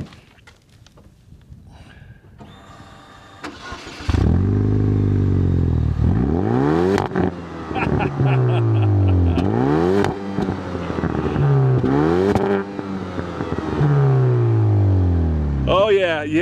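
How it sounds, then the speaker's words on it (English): A 2009 Chevy Cobalt SS engine starts up and revs repeatedly, loud and close, with rising and falling exhaust sweeps through the clip. "by far the best part of this car is the engine and the exhaust note"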